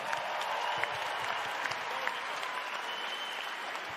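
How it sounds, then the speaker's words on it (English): Audience applause at a Perth Wildcats jersey retirement ceremony, a dense, steady wash of clapping from a large crowd that continues evenly throughout, no voices over it. "Can you give a big round of applause to the captain of the Perth Wildcats, Jesse Wagstaff?"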